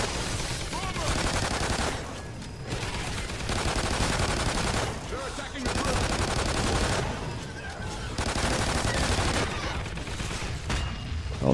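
Dense bursts of rapid gunfire and automatic weapons in Call of Duty Ghosts Extinction Awakening, loud and nearly continuous, broken by short lulls roughly every few seconds.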